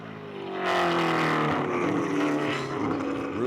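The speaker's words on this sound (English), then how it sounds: "Another pair of great-looking race cars." A pair of SCCA race cars sweeps past on a track, engines swelling from quiet to a loud, sustained roar as they pass close by.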